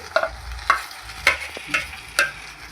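Onion, curry leaves, tomato and potato frying in a pan, with a steady sizzle under repeated scraping stirs of a utensil, about five strokes, close and fairly loud, no talk.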